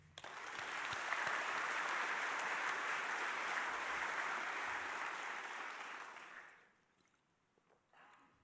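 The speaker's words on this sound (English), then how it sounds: "I would like to take this time to ask for a round of applause" An audience at an NTCA address claps in sustained applause for about six seconds, filling the room evenly before fading out to near silence, with a faint sound at the end.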